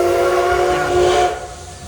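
A coal-fired steam locomotive sounds a loud, sustained whistle over a broad hiss of escaping steam, the whistle fading near the end while the hiss carries on.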